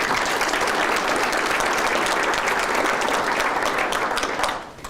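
An audience at a healthcare talk applauds warmly and continuously, a full, dense sustained clapping that tapers off just before the end.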